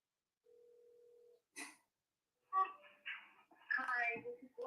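A single steady ringback tone plays while someone is called on the phone, then gives way to a few bursts of voices and noise.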